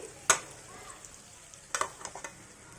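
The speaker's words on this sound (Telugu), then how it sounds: "ఇప్పుడు ఇది ఆయిల్లో బాగా ఫ్రై అవ్వాలి" Stuffed eggplants fry in plenty of oil for gutti vankaya curry, a soft, constant low sizzle with a sharp clatter near the start and a few scraping stirs later, quiet and close with no talking.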